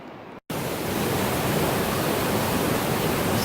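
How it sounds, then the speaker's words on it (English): The high French Broad River roars as a broad, constant rushing wash after a brief cut at the start, loud and steady with no voices. "Just thought I'd give you a little view of how the river is roaring here."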